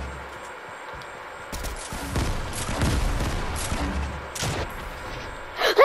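Rapid bursts of gunfire from a shooter video game match, several volleys of shots crackling at moderate loudness, with a final sharp pair of shots at the end.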